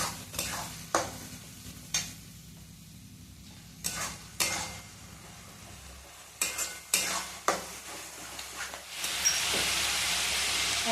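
A spatula scrapes and stirs mutton curry masala with yogurt as it fries in a pan. Repeated sharp scrapes come in irregular strokes over a soft sizzle, then a louder, steady hiss of frying near the end.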